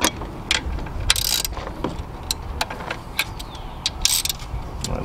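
A ratchet loosening 10 mm valve cover bolts on a Lexus GS or IS engine, bursts of quick metallic clicking separated by pauses and light handling clatter, close and fairly loud, no talk.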